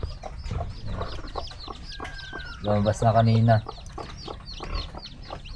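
Chickens cluck nearby in short bursts on a farm, with a louder burst of clucking near the middle as a hen leads her chicks out, while a person speaks over the farmyard sounds.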